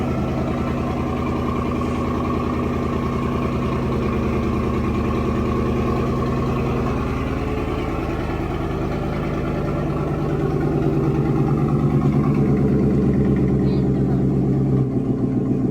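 A 2022 GMC Sierra with an AWE cat-back exhaust idles close by. It gives a steady, loud, rumbling lope that swells a little louder near the end.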